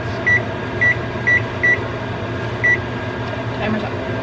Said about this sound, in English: Timer's up.